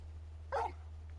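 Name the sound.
dog Torgal barking in video game Final Fantasy XVI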